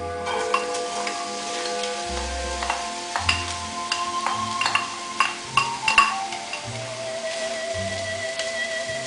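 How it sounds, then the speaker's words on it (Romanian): Onions fry in hot fat in a pan for beef goulash, with a soft crackling sizzle dotted with sharp pops and occasional stirring clinks. A steady hum runs underneath, and no voices are heard. "Într-o gratiță vom pune grăsimea, iar când aceasta s-a încins, vom adăuga ceapa."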